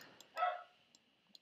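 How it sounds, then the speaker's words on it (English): A dog gives a single short, faint bark in the distance, followed by a few quiet clicks and near silence. "Damn dog."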